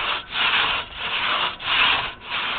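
A two-person felling crosscut saw is pulled back and forth through a large Engelmann spruce log on a trail clearing job, producing steady rasping strokes with brief pauses between pulls, close and loud with no talk.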